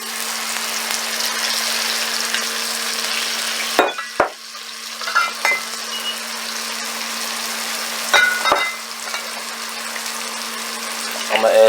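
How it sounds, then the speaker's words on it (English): Soy sauce hits a stir-fry in a hot pan during the cooking of cumin lamb and noodles, giving a steady close sizzle with stirring and a few sharp utensil knocks against the pan. "Next, I want to add a little bit of soy sauce."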